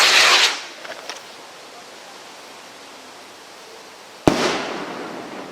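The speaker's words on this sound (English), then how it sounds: "Stunning rocket, that, isn't it?" A strobe-effect firework rocket bursts loudly at a public sale-day display, a sharp crack followed by a crackling, hissing shimmer that fades off, with an earlier burst dying away before it.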